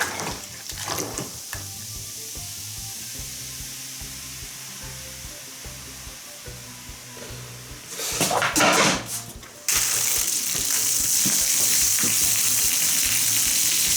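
Fermenting honey mead (dwójniak) is stirred vigorously, with a wet churning swirl that gives way to a loud, sustained fizzing hiss of released gas close to the microphone.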